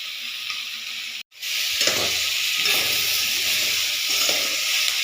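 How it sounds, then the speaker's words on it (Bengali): Vegetables fry with chopped ginger and dry-roasted cumin powder. A loud, close sizzle is briefly cut off, then returns with steady frying hiss and intermittent scraping stir sounds, with no talk. "সবজিগুলো ভালো করে লালচে করে ভেজে নিচ্ছি"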